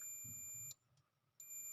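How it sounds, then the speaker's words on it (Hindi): A multimeter set to continuity mode gives a high, steady electronic beep that stops, leaves a short quiet gap, then sounds again, close and clear with no voices. "जहाँ पे भाई ये बीप होती है ना, बीप, उस पर सेलेक्ट करना है भाई।"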